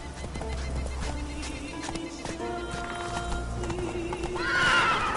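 Roach the horse gallops in a PS4 video game, with steady clip-clop hoofbeats, loud neighs and whinnies rising near the end, set over a continuous game soundtrack.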